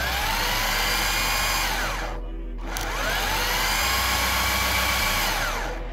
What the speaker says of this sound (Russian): Также можно приложить именно просто на срабатывание мотора.